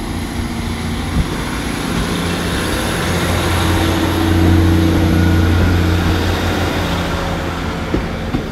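A Great Western Railway passenger train passes through Barnstaple station, a loud, steady low rumble and engine drone with faint rail clicks that swells in the middle and holds throughout.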